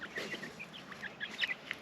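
Several backyard chickens cluck softly and intermittently as they are let out of a newly installed coop, scattered short calls at low volume with no talking.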